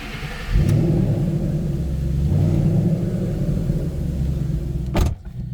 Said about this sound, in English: We'll start it up, let you hear it run.